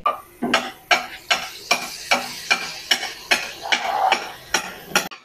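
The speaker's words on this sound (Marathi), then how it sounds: "तो झारा आहे तो दगडावर असा आपटला जातो आणि तेलामध्ये बुंदी पडते।" A perforated ladle tapped against stone in a rhythmic series of sharp knocks, about a dozen over five seconds, as boondi batter drops sizzling into hot oil or ghee in a kadai, close and clear with no talk.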